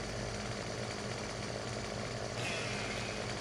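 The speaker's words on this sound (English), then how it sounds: "I think I'm just going to cut these with the chainsaw" Chainsaw cutting trees in Farming Simulator 17, a steady loud buzzing engine drone running throughout with a slight rise in pitch near the end, alone without talk.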